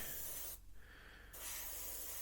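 Steady airbrush hiss spraying paint onto a scale model truck, broken by a brief quieter gap in the middle, close and continuous, with no talking.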